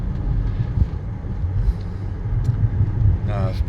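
A 2006 Lexus RX330 in pearl white pulls into a dealership, its low engine and tyre rumble steady throughout, with a short squeal near the end and a voice talking over it.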